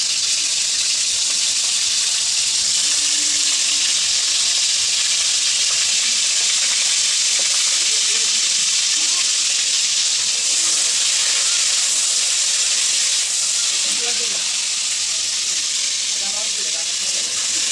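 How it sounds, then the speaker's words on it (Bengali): Crabs fry in hot oil in a wok, giving a loud, steady, close hiss and sizzle that runs without a break throughout. "কড়াতে তেল দিয়ে কাঁকড়াগুলো ভেজে নিচ্ছে"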